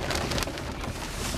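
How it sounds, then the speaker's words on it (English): Heavy rain in a strong February thunderstorm at Watertown, NY, a dense, loud, continuous hiss of drops striking a surface nearby, with no one talking. "Here comes the rain."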